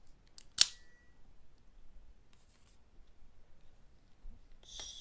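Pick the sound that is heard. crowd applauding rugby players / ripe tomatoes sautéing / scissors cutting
scissors cutting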